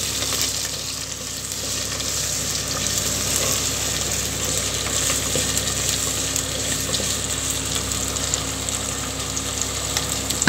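Medium-sized tomatoes sauté in a pan as the base for a black pomfret fish broth. A dense, continuous sizzle with light stirring holds loud and close for the whole stretch, without speech.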